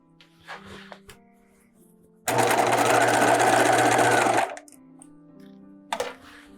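A sewing machine stitches a 5/8 inch sleeve seam on a bodice in one steady, fairly soft burst of about two seconds, with quiet handling noise before and after.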